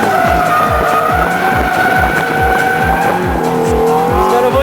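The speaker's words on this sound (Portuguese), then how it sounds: "Drift puro!" A Ferrari drifts at the Interlagos circuit, its engine roaring loud and close with a repeating, pulsing rhythm while the tires squeal continuously throughout.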